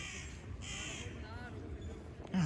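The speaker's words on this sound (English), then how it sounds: "Oh, crows." Several crows cawing at a moderate distance, a few harsh calls mixed with a person talking.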